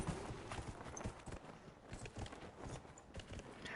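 Horse hooves clip-clop steadily in Dragon Age: Inquisition, a continuous rhythmic walking beat heard close and moderately loud with no talk over it.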